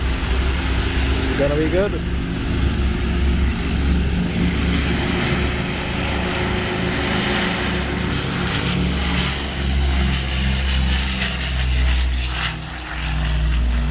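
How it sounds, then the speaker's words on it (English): A Douglas DC-6 piston-propeller airliner on its takeoff run at an airshow, its deep droning engine roar building steadily and staying loud and continuous throughout, with a brief spoken remark near the start. "DC-6 starting his takeoff run."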